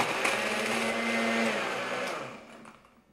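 A blender whirls a spiced apple smoothie with ice and apple pie spice, a loud steady motor whine that holds for about two seconds, then winds down and fades out.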